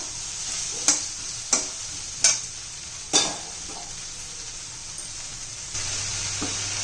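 Masala okra (bhindi) frying uncovered in a pan after salting gives a steady close sizzle, broken by four or five sharp scraping stir strokes, with no talk.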